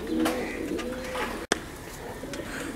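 An imported black cherry breeder pair of fancy pigeons coos softly and repeatedly at close range on a pigeon farm in Multan, Pakistan, with a single sharp click partway through.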